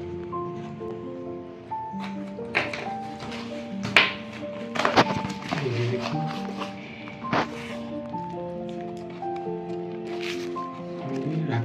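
A rakhi gift package sent from Dubai is unpacked with scattered crinkles, taps and soft thumps from handling, heard over steady background music.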